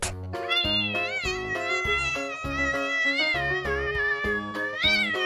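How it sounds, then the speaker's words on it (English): Domestic cat meowing repeatedly, about ten short, clear calls in a row, close and fairly loud, with musical accompaniment beneath. "Cat."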